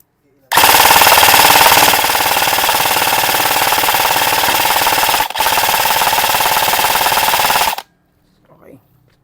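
A Delta D013 full-metal electric airsoft rifle firing on full auto: a loud, close, rapid buzzing rattle that runs for about seven seconds, broken by one brief gap, then stops abruptly.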